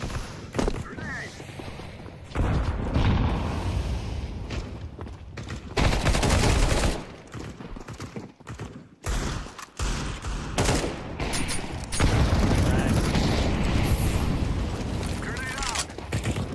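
Explosions and gunfire from a first-person shooter match in CS:GO, dense sustained booms and volleys that swell and ease, with a player talking over much of it.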